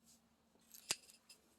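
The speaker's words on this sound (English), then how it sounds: "I'm going to have to grab my scissors." Metal scissors picked up with a single sharp click and a faint clink, ready to cut open a cardboard Amazon shipping box, quiet and close, with light handling rustle before and after.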